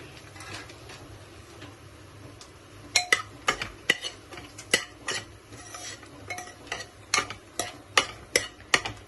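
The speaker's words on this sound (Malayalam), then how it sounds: "നല്ലതായിട്ട് നമുക്ക് ഇളക്കണം ഇത്" Vegetables for a vegetable pulao frying in a pan, a quiet low sizzle at first, then a run of sharp rhythmic clinks and scrapes as a spoon stirs against the metal pan, close by.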